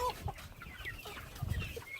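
Several Orpington hens cluck softly nearby, scattered short calls rising and falling over a quiet farmyard background.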